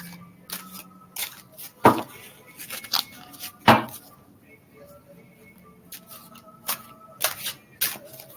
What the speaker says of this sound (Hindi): चलिए आपके लिए मैं कार्ड्स पुल करती हूँ